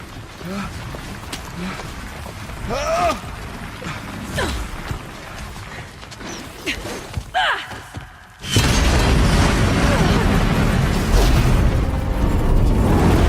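Booming blasts and crackling bursts from the video game Horizon Zero Dawn: The Frozen Wild, several scattered explosions followed by a heavy, sustained roar of noise, with a voice speaking over the early part.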